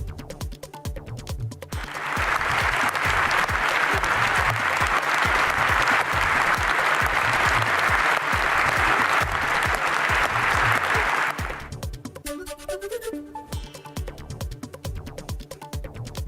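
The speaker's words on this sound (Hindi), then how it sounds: "सांसदों ने खड़े होकर जेलेंस्की के लिए तालियां बजाई।" UK members of parliament give Zelensky a standing ovation in parliament: dense, sustained applause swells in and holds for about nine seconds before cutting off, with a music bed underneath before and after.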